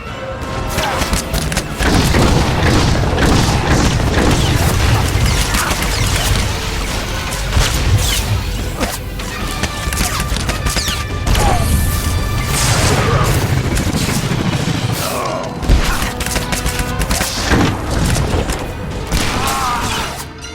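Gunfire erupts in a battle scene of a Star Wars Republic trooper audio drama, with loud, sustained volleys, booms and crashes filling the whole stretch alongside clattering mechanisms.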